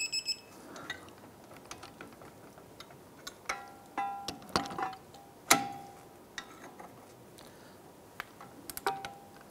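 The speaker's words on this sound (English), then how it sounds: "Now torque these down to 85 foot-pounds." A hand ratchet torques strut bolts on a 2001–2007 Ford Escape during a strut assembly replacement, giving quiet, irregular bursts of metallic clicking with sharper clanks between pauses, close and otherwise alone.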